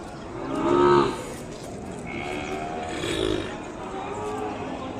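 An Ongole bull calf gives two drawn-out moos, the first louder near the start and a second softer one a couple of seconds later, over outdoor background noise.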